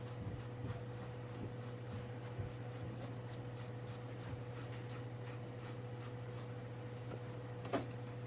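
A pencil scratches softly across paper while sketching an egg-shaped outline for a rabbit drawing, with short faint strokes over a steady low hum and no talking.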